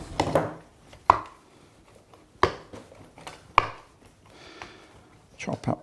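Fresh rosemary is chopped with a knife on a board for a Provence-style lamb rub, three sharp, evenly spaced knife strikes with softer rustling between, close, followed by a brief muffled voice at the end.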